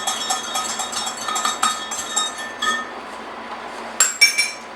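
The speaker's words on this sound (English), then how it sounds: "We'll get that added in there and whisked around." A whisk clinks and scrapes rapidly against a pan as Frank's Red Hot is stirred into a cheese sauce, bright metallic taps in uneven bursts, a sharper cluster near the end.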